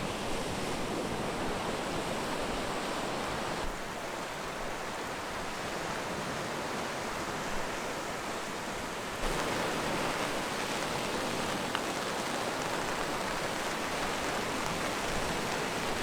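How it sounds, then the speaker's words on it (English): Steady rain falling on the coast during a fishing session after a storm, a constant even hiss that runs unbroken throughout with a slight lift in intensity partway, no voices. "This rain I think is going to get stronger and stronger."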